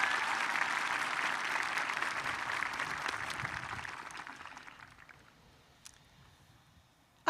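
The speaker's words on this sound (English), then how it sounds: "Applause, everybody." Graduation audience applauding at a high school ceremony, a dense, steady wash of clapping that holds for several seconds and then fades away, leaving near silence with a couple of faint knocks.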